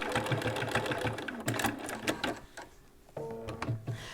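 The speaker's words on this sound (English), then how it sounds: "I'm going to back stitch 2 or 3 stitches" Sewing machine back stitching along the border strip of a quilted placemat: a close, steady mechanical chatter of rapid stitches that slows briefly mid-way, then resumes with a few short runs.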